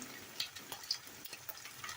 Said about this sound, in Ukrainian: смажимо їх на середньому вогні